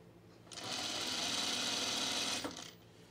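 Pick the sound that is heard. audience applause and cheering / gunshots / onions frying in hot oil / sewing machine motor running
sewing machine motor running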